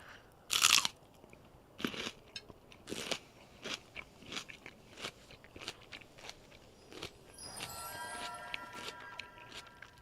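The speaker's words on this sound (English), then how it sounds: "So I'm eating the celery stalk now." Someone bites and chews a raw celery stalk close up, giving a loud crisp snap and then a series of wet crunches at an uneven pace, with a faint chime partway through.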